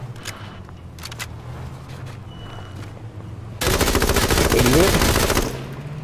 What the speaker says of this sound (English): Yeah, I'm getting shot at by somebody.